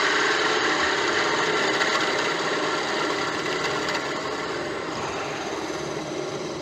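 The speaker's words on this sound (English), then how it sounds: "So we'll part that off at round about where I want the length of the pipe to be" A lathe tool parts off a turned piece of Indian Rosewood for a pipe, giving a steady, close, loud scraping hiss of wood being cut that continues without a break and fades slightly near the end.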